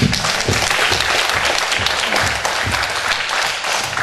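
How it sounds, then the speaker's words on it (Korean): Church congregation applauding during a Wednesday evening service, a dense, loud wash of many hands clapping continuously at close range with no break. "박수 주시겠습니다"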